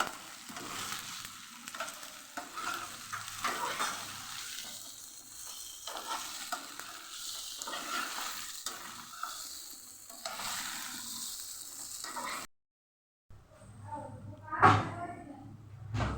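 Spinach muthiya dhokla pieces are stirred into a hot tempering of oil and white sesame seeds, a steady close sizzle with scraping spoon strokes, briefly cutting out before a last clatter.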